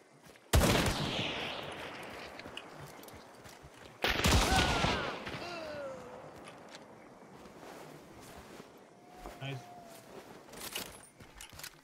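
Gunshots in the video game Hunt: Showdown, with two sharp loud shots ringing out with long echoing tails, followed by faint footsteps and rustling.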